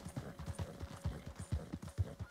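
A horse gallops in the Red Dead Redemption 2 western game, its hooves drumming in a fast, steady clip-clop rhythm, close and clear with no talk.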